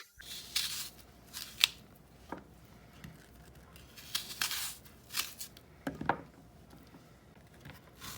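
Knife slicing apples for apple pie, a series of crisp, close cuts in irregular bursts with quiet pauses between strokes.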